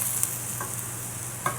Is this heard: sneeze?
no